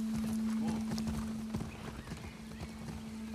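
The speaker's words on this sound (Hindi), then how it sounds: "अब ये देखो घोड़ा भाग रहा है" A horse gallops in the video game The Last of Us Part II, rapid clip-clopping hoofbeats running continuously over a steady low tone from the game, close and prominent with no talking.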